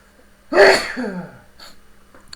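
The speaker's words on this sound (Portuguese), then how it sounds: "Desculpa, deu um espirro aqui." A single loud, close sneeze bursts out with a sharp onset and trails off into a breathy tail, followed by a faint sniff and small rustles in an otherwise quiet room.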